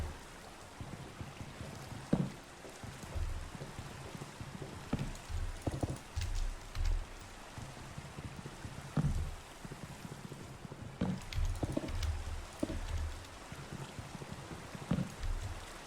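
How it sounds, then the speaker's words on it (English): Steady video game rain pattering with scattered heavier drops and soft thuds, a continuous wet hiss throughout. "Oh great, it's raining."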